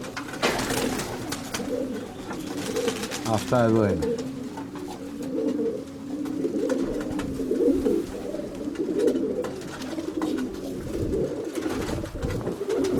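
A flock of pigeons and doves gathers outdoors in strong wind, cooing steadily and close together throughout, with someone speaking over the birds and wind gusts in the background.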